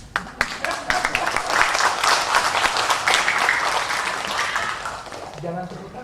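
Theatre audience at a Teater Mandiri performance of Putu Wijaya's work clapping in a dense, loud wash of applause that fades toward the end.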